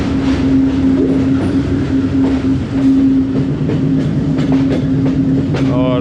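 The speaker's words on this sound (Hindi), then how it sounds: "15 अब Karachi express Multan cantt railway station पे तकरीबन 3 घंटे और 40 मिनट तखीर से पहुंच रही है" Karachi Express pulling into platform 3 at Multan Cantt station behind a Blue Tiger AGE30 locomotive, a loud steady train rumble with a sustained horn-like tone and rail clatter, running continuously throughout.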